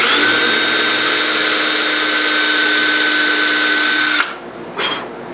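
Loud, steady whine of a power drill boring a pin hole through a guitar neck and glued fretboard, running continuously, then cutting off, followed by a brief short burst.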